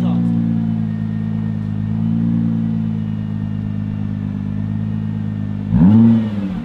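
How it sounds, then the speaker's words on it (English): A 2019 Nissan GT-R with stock exhaust idles with a steady low engine drone, then rises briefly in one short rev near the end before settling back, heard close under nearby talk. "Let's see how this sounds. Stock exhaust, but I know it sounds good."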